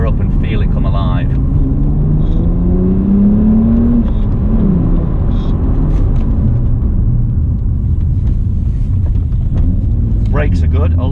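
A BMW 1M on a twisting road, its engine rumbling and rising in pitch through one pull then easing, loud and steady from inside the car with a voice talking over part of it.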